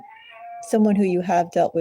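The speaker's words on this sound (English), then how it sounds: "I don't know if you can hear my cats squealing in the background" A cat gives a thin, drawn-out squealing meow in the background, then a person starts talking over it.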